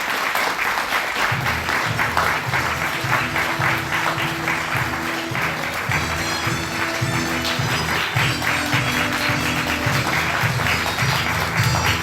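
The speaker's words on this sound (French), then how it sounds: "un tonnerre d'applaudissements" A theatre audience applauds loudly and steadily at the close of a 2019 stage comedy, dense sustained clapping with some crowd noise and a low musical drone underneath.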